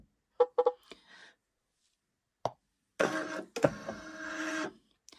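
A computerized embroidery machine starts up, with a few sharp clicks and knocks, then a pause, then a buzzing mechanical whir with tonal hums as the arm moves into position, nearby and without talk.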